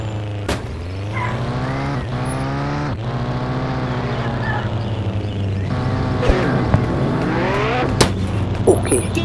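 A Bugatti Chiron in a video game revs loud and close, its engine note climbing and falling through several throttle sweeps, with sharp clicks and bursts at intervals.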